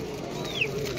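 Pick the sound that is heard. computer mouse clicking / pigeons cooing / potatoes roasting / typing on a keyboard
pigeons cooing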